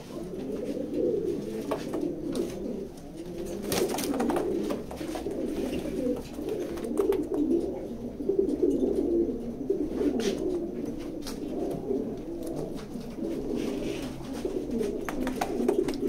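Pigeons coo steadily in a loft, a dense, continuous chorus of soft, rolling calls from many birds at close range, with no voices.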